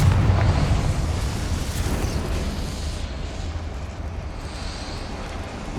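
A Confringo spell blast in Hogwarts Legacy, a loud, rumbling explosive burst that fades into a sustained low roar, with no talk.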